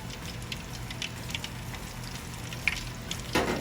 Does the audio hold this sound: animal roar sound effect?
no